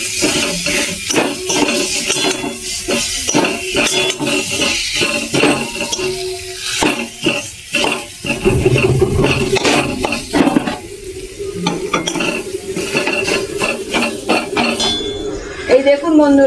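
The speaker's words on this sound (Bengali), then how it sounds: "খুন্তিতে একটু ভেঙে ভেঙে দেবো।" A metal spatula breaks up boiled potatoes in a pan with repeated scraping and clanking knocks in an uneven rhythm, close and fairly loud.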